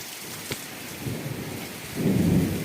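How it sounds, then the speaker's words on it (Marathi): Heavy afternoon rain pours steadily on a farm, broken by a sharp thunder crack early on and a deeper, louder rumble building later. "पाहिलं ना विजाचा आवाज"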